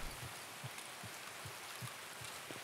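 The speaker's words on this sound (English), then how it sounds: "It is raining hard though right now." Hard rain falling in the Escape From Tarkov video game, a faint steady hiss with soft low thumps at irregular intervals, no voices.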